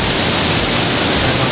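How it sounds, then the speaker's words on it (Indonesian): Seganing waterfall in Bali pours down as a steady, loud, broadband roar of falling water, constant and close with no pauses, and no voices over it. "Sekarang saya sudah sampai di air terjun Seganing."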